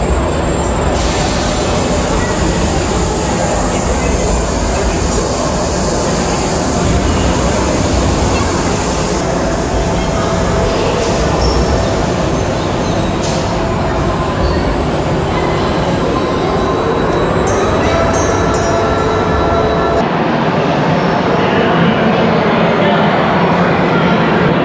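Empty trains roll loudly through a German railway station, a constant heavy rumble with shrill wheel squeals and metallic screeching that carries on until the noise eases near the end.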